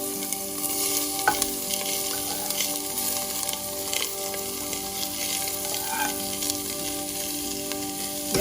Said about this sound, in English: Adding sauteed onions on top.